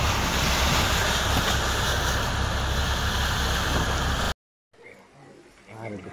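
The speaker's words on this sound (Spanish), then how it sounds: "que toda esta agua va a parar allí a la zona de la calle Triana." Floodwater rushing down a street in Arrecife, a loud continuous roar of flowing water with heavy wind buffeting, cutting off abruptly and giving way to quieter outdoor sound with people speaking.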